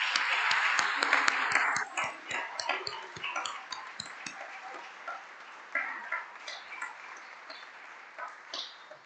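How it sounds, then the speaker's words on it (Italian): Applause at a lecture, a university inaugural address, breaking out strongly at first as dense clapping and then thinning into scattered claps that fade away. "Magari a loro dedichiamo un piccolo applauso."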